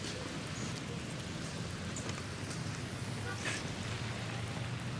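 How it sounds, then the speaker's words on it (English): Steady rain falls throughout, a constant soft hiss of drops on surfaces, fairly faint, with a few scattered louder splashes. "It's raining, dude."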